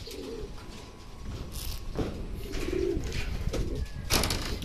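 A racing pigeon back from a 117 km training flight in Tiaong, Quezon, gives soft, close coos and breathy sounds, with faint rustling and light background noise.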